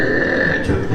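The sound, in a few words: voice actor imitating a cartoon belch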